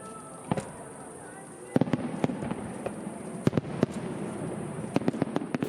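Fireworks pop and crackle in scattered sharp bursts at Gungnamji pond in Korea during a lotus festival, some near and some farther off, over a murmur of crowd noise.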